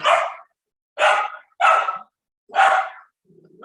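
Dogs bark over an online call, four loud, close barks with short silent gaps between them and a faint trailing sound at the end.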